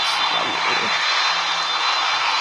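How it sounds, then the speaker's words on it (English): An airplane takes off in the PTFS flight video game, producing a loud, steady engine roar with a broad hiss that holds constant throughout, with no talk. "Okay, now 2 flaps. And take off."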